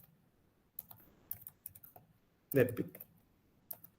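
Clicky typing on a computer keyboard comes in short scattered bursts of keystrokes at close range, interleaved with quiet speech.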